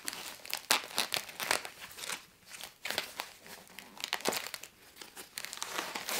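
A parcel's plastic and cardboard packaging is torn and opened by hand with dense, close crinkling and crackling in irregular bursts, rustling continuously throughout.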